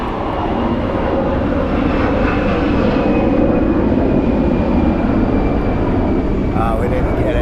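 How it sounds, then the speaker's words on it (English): An airplane flies overhead in Chiang Mai, Thailand, as a loud, steady, continuous roar that holds for several seconds, with people talking beneath it. "oh look, here's a plane."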